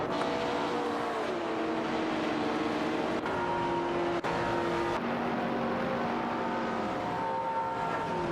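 Several race cars drive in an AI-run racing video game, engines droning steadily with shifting pitches throughout, a continuous close mix of motor tones with no talk.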